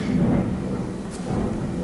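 Thunder following a lightning bolt, a low continuous rumble with rain-like hiss, heard at a steady, moderate loudness throughout without a clear single crack.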